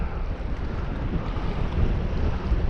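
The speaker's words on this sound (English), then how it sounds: "This wind might just bully me out of my spot before I get my limit" Steady wind gusting across a lake around a fishing boat, a loud continuous broadband rush with microphone buffeting and faint lapping water, no talking.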